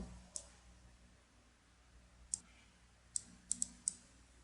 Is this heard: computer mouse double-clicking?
yes